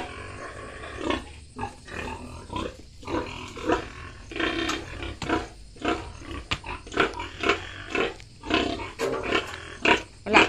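Sows grunt repeatedly in a backyard pigpen, a close, irregular series of rough snorts and grunts that rise and fall in bursts throughout, with no talking.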